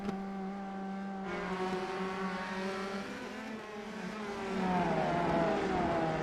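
Open-wheel race cars from a racing video game, on the Long Beach street circuit, with engine tones that rise and fall through the gears and a second car's whine that climbs near the end, loud and steady without talking.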